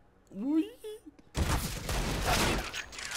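Gunfire on the Dust 2 map in CS:GO erupts after a brief spoken remark, a loud sustained burst of shots with sharp cracks that fades into noisy echoing aftermath.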